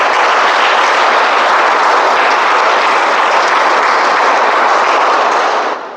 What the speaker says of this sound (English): let's hear a huge round of applause for all the speakers from 1 to 7